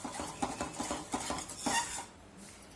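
A spoon stirs homemade chocolate syrup in a pot or bowl, giving a rhythmic series of soft scraping clinks that slow and fade toward the end, close and alone.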